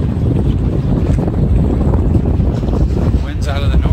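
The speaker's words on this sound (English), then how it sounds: "Wind's out of the north." Steady wind buffets the microphone outdoors near a lake on a breezy day with a north wind of about 15 to 20 miles an hour, a constant low roar throughout with a brief gust near the end.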